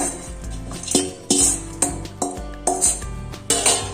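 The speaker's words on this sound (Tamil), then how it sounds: "சர்க்கரை பாகில் சேர்த்துட்டு இப்படி நல்லா கலந்து விட்டுறலாம், இந்த பாகில் ஊறுற மாதிரி" Boondi being stirred into sugar syrup in a bowl for laddu, with repeated loud clinks and scrapes of a metal spoon against the dish, coming in quick irregular strokes close by.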